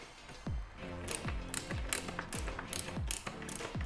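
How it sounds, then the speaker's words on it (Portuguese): A wrench tightens a Venture skateboard truck bolt with a run of about eight quick, close ratcheting clicks at an even rhythm, each a sharp tap with a short ringing tail, no talk over it. "dá pra apertar normal o parafuso aqui do Venter"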